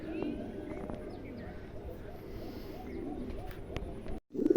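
King pigeons coo softly and repeatedly at close range, low rounded calls under a constant murmur of background noise, with a sharp clatter near the end.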